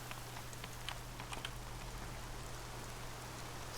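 Rain falls in the video game Horizon Zero Dawn, a steady, soft hiss with a few faint scattered drips over a low constant hum, and no voices.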